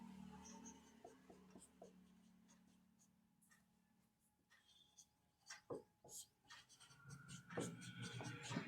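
Chalk or marker strokes on a classroom board during a maths lesson on sets, scratchy taps and scrapes that come and go, close and moderately quiet, louder in the final seconds.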